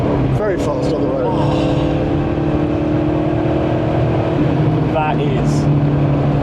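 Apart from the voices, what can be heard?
Porsche 964 3.8 RS exhaust crackles on overrun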